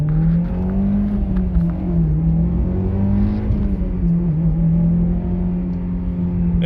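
A 2013 Mitsubishi Lancer Evolution X GSR accelerates hard, its engine note climbing steadily and then holding a strong, fairly smooth drone close to the microphone, with no talk over it.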